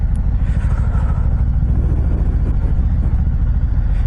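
A 2021 Indian Chieftain Darkhorse motorcycle engine rumbles steadily at low pitch under throttle while riding, a continuous close, loud drone with road and wind noise and no speech.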